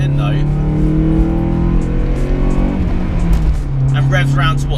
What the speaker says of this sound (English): It's got a nice burble from the rear end.